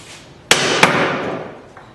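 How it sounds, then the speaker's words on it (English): A chisel strikes into wood to carve out a groove. Two sharp, bright knocks land close together, each with a short ringing decay, and a faint tap follows. "Then take your chisel and just carve it out."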